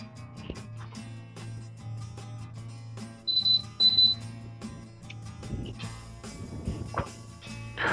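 A kitchen timer beeps while a wholemeal loaf finishes its second proof, two clear bursts of high repeated beeping around the middle over a steady low hum and some clatter.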